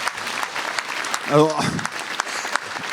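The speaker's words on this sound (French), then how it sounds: "Vous pouvez vous applaudir." A gathered association audience claps for itself, brisk crowd applause running throughout while a voice briefly speaks French over the clapping midway.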